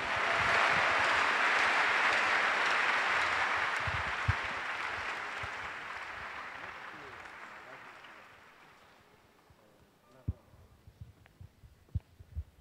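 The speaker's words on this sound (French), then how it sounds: "Give the Lord a clap offering." A church congregation claps together in a broad, loud wash of applause that fades out gradually, leaving scattered single claps and thumps at the end.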